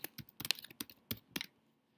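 Soft, quick clatter of a computer keyboard as a short tab name is typed, a run of about eight uneven keystrokes heard up close and alone before falling quiet.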